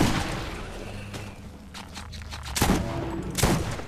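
Bursts of rapid gunfire crackle in Borderlands, a sustained volley followed by two sharp, loud shot clusters close by.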